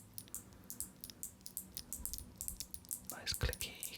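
Clicky keyboard keys tapped in a quick, irregular series of light close-up clicks, with soft breathy sounds underneath and a louder burst of clatter near the end.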